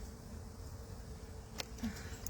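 A soft, steady buzz of honey bees hums around an open hive, faint and continuous, with a brief louder bee passing close near the end.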